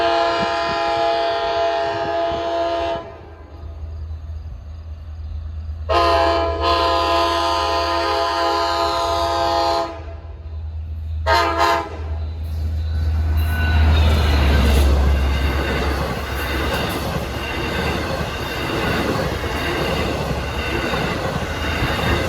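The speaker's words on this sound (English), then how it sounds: "K5LA horn, and this engineer is blowing the horn well" A Montauk summer train passes close by while its K5LA horn blows in long, loud blasts separated by short breaks, followed by a heavy rumble and wheel noise as the train rolls past.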